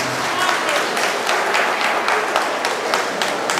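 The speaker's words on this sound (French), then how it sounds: "je vous ai demandé d'applaudir le président Alassane Ouattara" A crowd applauds Ivorian president Alassane Ouattara at an Africa Cup of Nations trophy presentation, with loud, continuous clapping from many hands and some crowd voices mixed in.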